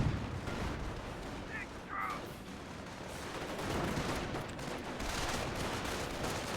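Gunfire in the World War II strategy game Company of Heroes, a continuous wash of rapid shots and thudding artillery-like blasts forming a dense, loud battle din throughout, with a commentator's voice faintly under it.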